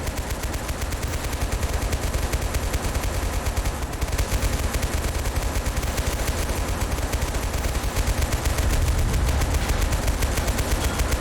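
Dense, continuous gunfire from a battle in Total Conflict: Resistance, rapid machine-gun bursts layered with scattered shots, loud and unbroken for the whole stretch with no talk.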